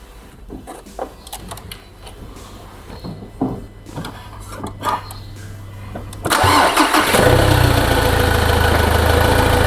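A car engine, with its EGR system disabled for an intake cleaning treatment, is started after some faint handling noises and then settles into a steady, fairly loud idle that continues to the end.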